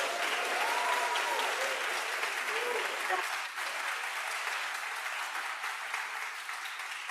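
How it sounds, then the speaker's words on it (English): Lecture audience applauds a guest speaker, the Librarian of Congress, with a sustained, fairly faint field of clapping; a voice speaks over the first few seconds before the applause continues alone. "a big round of applause for Dr."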